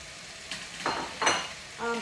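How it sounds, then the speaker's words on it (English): Cooked leftover turkey with spices tossed into a pan over high heat, a sizzling fry with a few bursts of stirring and scraping. "So we sit on high heat and the turkey goes in."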